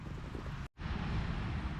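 Wind buffeting a microphone outdoors on a wet hillside hike, a steady rough roar that cuts out briefly and then resumes just as strong.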